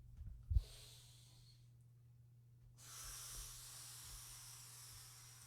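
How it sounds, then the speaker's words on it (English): An animal breathes hard in close, hissing breaths, with a sharp snort near the start and a long, rushing exhale later, against quiet surroundings. "He's hard breathing."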